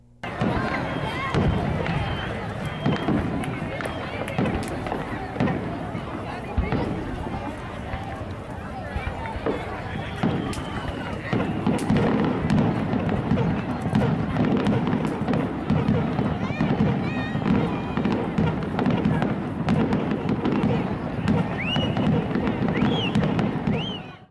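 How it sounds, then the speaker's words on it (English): Fourth of July fireworks in Kenosha thud and crackle over a dense, lively crowd, with cheering and chatter swelling steadily through the whole stretch and growing louder in the second half. "they stayed for the fireworks, which again this year elicited oohs, ahs, and cheers"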